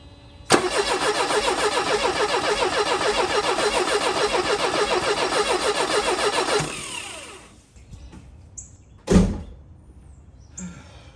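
A Mercedes 190E's starter cranking the engine: loud, even, rhythmic churning for about six seconds that cuts off without settling into an idle, followed by quiet and a single heavy thump.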